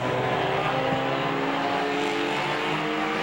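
Race cars at Veterans Raceway Park roar past on the track, among them the number 71 of Rick Babcock, a loud continuous engine drone that holds steady from start to finish.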